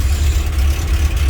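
The engine of a Birchwood 22 river cruiser boat idles with a steady, low, continuous rumble, heard close and alone.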